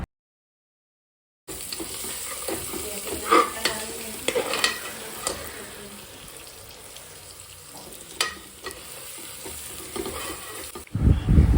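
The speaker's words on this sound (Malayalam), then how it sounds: "അതും കൂടി ഇട്ട് നന്നായിട്ട് നമ്മൾ ഇളക്കുക." Sliced onions with curry leaves and salt fry and sizzle in a pan, with scraping stir strokes at a steady, close pace after a brief silent start and a louder clatter at the end.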